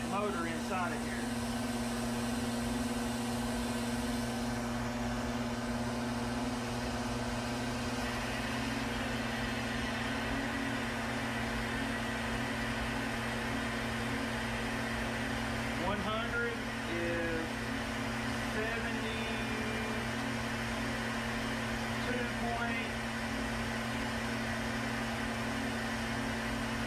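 Electric motor of a flow bench used for cylinder head airflow testing runs steadily, a constant loud hum and whine with a low drone throughout, with faint voice sounds occasionally riding over it.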